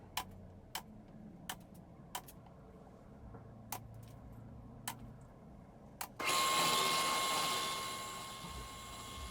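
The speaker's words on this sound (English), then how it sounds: "I'm just using the spindle sander to create that cove on the back edge" A spindle sander shaping a cove on wooden trim starts up after several sharp clicks and runs as a steady whirring hum, close and moderately loud.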